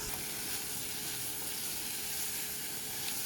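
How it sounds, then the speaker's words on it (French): Onion and vegan lardons sizzling in hot oil in a pan, a steady close frying hiss with no talking. "Dans de l'huile bien chaude, je fais revenir un oignon."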